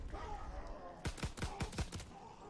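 An M1911 pistol with no accessories fires in a WW2 zombies video game, a quick burst of about six close, sharp shots after a second of low ambience.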